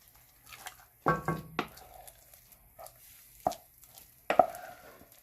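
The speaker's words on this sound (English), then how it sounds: "So I'm going to take this off now and transfer this to my greased baking dish." A thick corn pie mixture is scraped from a pan into a greased baking dish, making a few close, distinct scraping and thudding sounds separated by short pauses, with no voices.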